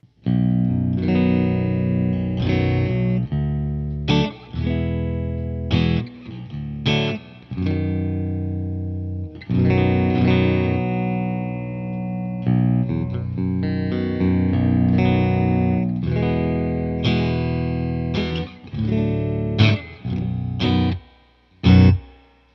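A baritone electric guitar plays a run of clean notes and chords, each ringing out with a light wash of reverb; no voices.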